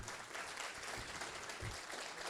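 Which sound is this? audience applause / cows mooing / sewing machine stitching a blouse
audience applause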